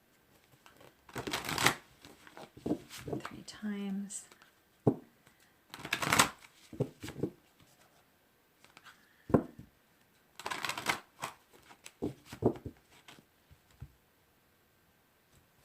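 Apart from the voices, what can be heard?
shuffling tarot cards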